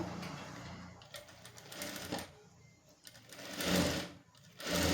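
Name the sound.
sewing machine stitching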